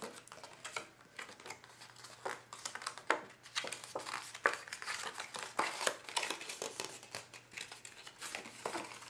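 Scored cardstock being folded down along its lines for a Halloween test tube holder, quiet close crinkling and sharp creasing snaps in irregular bursts with a faint steady hum beneath.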